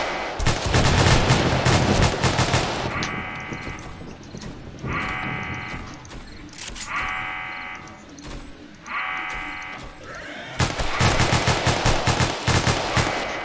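Continuous automatic gunfire rattles in a 7 Days to Die match, loud and close, with a few short pauses. Repeated buzzing tones pulse over the shooting in the middle stretch.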